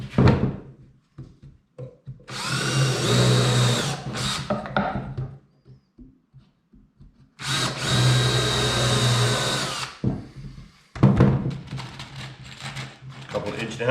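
Power drill countersinking holes in a lighthouse model build: two long whirring runs of several seconds each, separated by knocks and handling clatter, with someone speaking between them.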